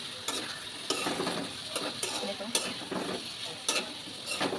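Chicken meat is sautéed (kosha) with spices in a pan, with a steady sizzle under repeated rhythmic scraping strokes of a spoon, about eight in quick succession, close by.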